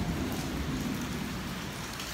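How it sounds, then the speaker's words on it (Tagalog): Dense, steady rain pours down in a continuous hiss, heavy and close, with no voices. "Lakas-lakas nga ng ulan, no?"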